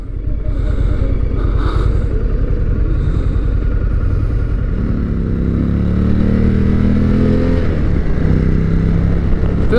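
An Indian motorcycle on a dealership demo-day test ride rumbles loudly and continuously, its engine note rising as it revs and accelerates, with wind noise and brief speech over it.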